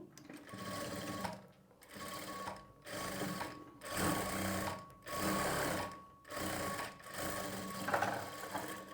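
Sewing machine stitching the side seam of a blouse, a steady fast mechanical chatter running in repeated bursts with short pauses between them.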